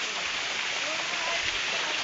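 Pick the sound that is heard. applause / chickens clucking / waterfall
waterfall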